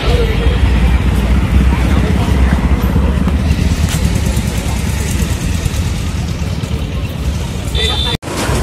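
A Kawasaki Ninja ZX 650 superbike fitted with a loud exhaust runs with a steady, rumbling engine note amid a noisy crowd, with chatter and babble mixed throughout.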